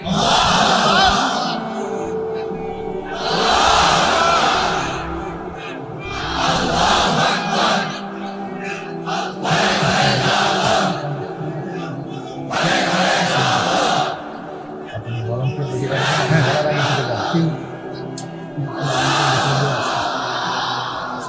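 A large gathering at a religious sermon chants the takbir in unison, loud rhythmic swells of many voices repeated about six times, with a leader calling between each response.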